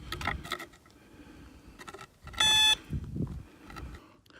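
A metal detector sweeps over buried metal in desert ground, giving one loud, sustained electronic beep amid soft rustling and handling noise.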